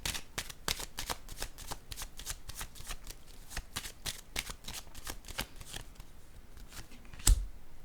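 Tarot cards shuffled and laid on a table: a steady run of crisp, close papery flicks and taps repeating evenly, ending with a sharper slap of a card set down, with no talking.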